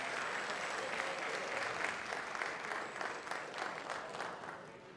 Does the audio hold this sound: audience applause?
yes